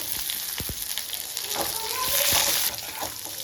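Dried red chillies and garlic frying in a pan, a continuous close sizzle with a few sharp utensil clicks and a rising hiss midway, moderately loud.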